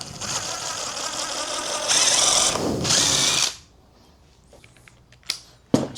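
A power drill whirs loudly in short bursts while a mold press is being built, then cuts off abruptly, leaving quiet gaps broken by a few sharp clicks and knocks.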